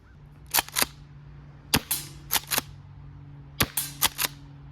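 A Jag Arms Reaper gas airsoft gun fires sharp, close, loud shots in small bursts of two or three with short pauses between, no talking.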